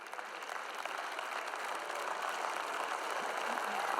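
An audience at a Joyce Meyer faith talk gives a steady wash of applause, moderate in volume and fairly even, swelling slightly toward the end.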